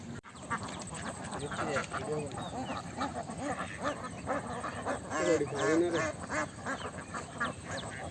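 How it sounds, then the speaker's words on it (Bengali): A flock of ducks on a village duck farm in Bangladesh quacks repeatedly in an overlapping chorus, louder in bursts, while people talk nearby. "এই যে দেখেন হাঁসের ফার্ম এই যে কিছুক্ষণ আগে যে লোক কথা বললো তার হাঁসগুলা এই সব হাঁস তার"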